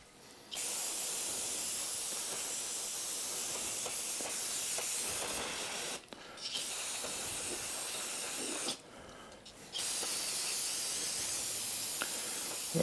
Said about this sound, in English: And now I'm going to get some brake cleaner and clean all the mess off.